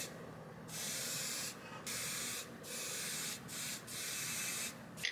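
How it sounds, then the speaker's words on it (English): Repeated bursts of aerosol spray hiss as black paint is sprayed onto trials bike handlebars, each lasting about a second, separated by brief pauses, close and fairly loud. "I'll also be sanding these down and painting these black."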